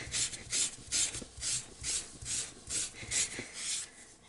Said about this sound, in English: You give it a good scrub and you go over it with the clean side.